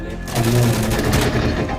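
Loud, sustained bursts of automatic gunfire from the video game Insurgency crackle without pause in rapid, dense shots, close and dominant for the whole stretch.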